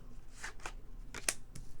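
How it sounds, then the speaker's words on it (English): Tarot cards being shuffled by hand, a few soft quick riffling and sliding bursts, faint and close, with no talking. "We'll try one more shuffle and then we'll just cut"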